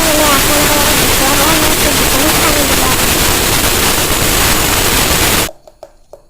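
A grinder loudly whirs through chillies, spices and a little water in one dense, roaring, unbroken blast that cuts off abruptly near the end, leaving a few faint clicks.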